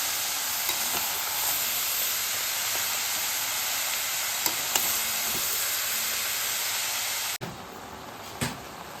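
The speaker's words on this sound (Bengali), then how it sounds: "এবার এটাকে নাড়িয়ে ছাড়িয়ে ভালো করে লাল লাল করে ভেজে নিলেই কিন্তু রেডি হয়ে যাবে আমাদের বাঁধাকপি মাছের মাথা দিয়ে।" Steamed cabbage frying with fish head and potatoes in a pan hisses in a continuous loud sizzle with occasional stirring scrapes, then drops sharply quieter near the end.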